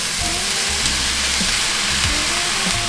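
Garlic, shiitake mushrooms, yellow onions, bell peppers and kale sizzle loudly and steadily in a hot pan, a dense crackling hiss with faint stirring clinks underneath.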